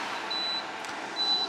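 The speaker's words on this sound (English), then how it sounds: "Right now it's beeping." A 48V pure sine wave inverter sounds a thin, high electronic alarm beep, two short steady tones over a low hum, repeating in a regular pattern.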